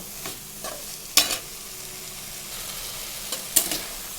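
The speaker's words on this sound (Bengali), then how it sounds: "সব রকম বলছি দিয়ে আমি আবার একটু নাড়াচাড়া করব" A spoon stirs reddened masala frying in a pan for a long-bean and poppy-seed dish. A soft, steady sizzle runs throughout, broken by a few sharp scrapes of the spoon against the pan, and no one speaks.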